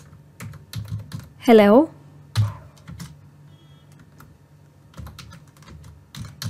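Rapid clicking keystrokes on a computer keyboard while an email message is typed, close and crisp in irregular bursts, with a brief spoken word partway through.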